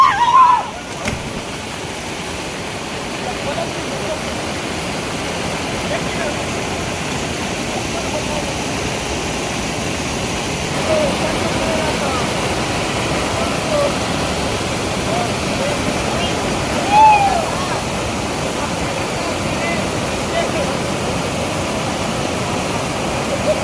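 Stream water flows in a steady broadband rush in a traditional Konkan village setting, with brief splashes from someone jumping in and swimming, and a voice speaking faintly over the water.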